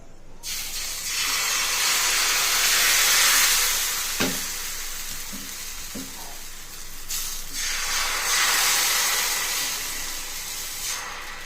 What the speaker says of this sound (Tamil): இப்போ நான் தோசை ஊற்றி காமிக்கிறேன் ஃப்ரெண்ட்ஸ்